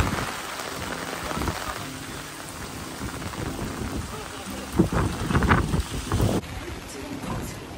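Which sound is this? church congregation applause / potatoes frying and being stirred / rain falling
rain falling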